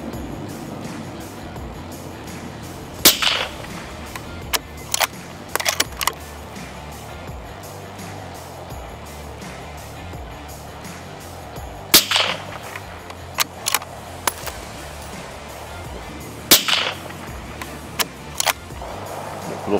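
A Sako S20 Hunter rifle fires 6.5 Creedmoor RWS Evolution Green 93-grain rounds at a range, three sharp, loud single shots spaced several seconds apart, with faint clicks of bolt handling between them.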